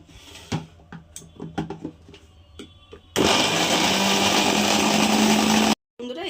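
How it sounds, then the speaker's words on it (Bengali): A kitchen mixer grinder purées ripe mango into pulp, starting with a loud, steady whirring roar that runs unbroken for several seconds, cuts out abruptly, then resumes; light clatter and faint talk come before it. "এবার এই একই জারের মধ্যে আমি আমটাকে একটু মিক্সিতে ঘুরিয়ে নেব"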